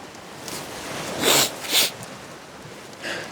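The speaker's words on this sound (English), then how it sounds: "Excuse the sniffling." Two short, breathy nasal sniffs in quick succession over a low background hiss, followed by a fainter third sniff.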